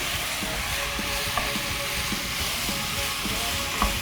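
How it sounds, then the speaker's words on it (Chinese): Minced garlic fries in chicken fat rendered from searing chicken, for a chicken-and-tofu dish, with a constant crackling sizzle and occasional light clicks of a stirring utensil against the pan, and no talking. "这个时候就可以放下我们的蒜末。 利用我们的鸡油下去爆香"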